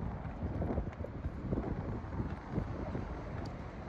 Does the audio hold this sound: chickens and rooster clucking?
no